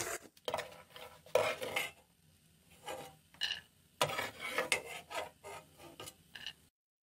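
Metal utensil scraping and clinking against a pan while scooping fried cashews out of ghee, in short irregular bursts, with faint sizzling between strokes; no one speaks.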